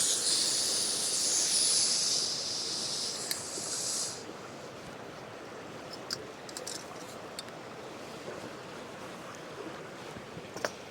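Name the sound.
camp stove hissing while heating water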